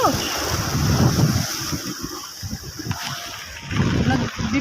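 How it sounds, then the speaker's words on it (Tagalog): Strong wind and rain roar over a street in Carigara, Leyte, buffeting the microphone with a constant rushing noise, while voices speak faintly underneath. "Lakas ng hangin tsaka ulan."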